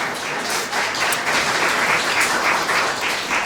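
An audience claps at a community network's annual general meeting, a dense, even patter of many hands that holds steady throughout without any talking.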